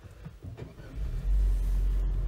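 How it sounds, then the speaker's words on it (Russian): A Changan CS35PLUS car engine cranks and catches, then settles into a steady low rumble that holds loud and close for the remaining seconds. "Теперь заводим"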